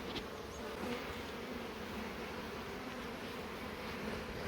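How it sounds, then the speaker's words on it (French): Honeybees buzz around an open hive in a steady, dense drone. The sound is continuous and moderately close, with no voices over it. "Surveillez-vous les abeilles."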